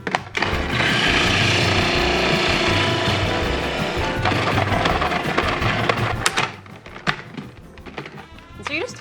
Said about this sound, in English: you could just do this on a cheese grater if you wanted to, but I'm gonna use the food processor